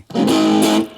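A single heavily distorted electric guitar chord rings out loud and sustained for about a second through a Fender Japan amplifier, then cuts off.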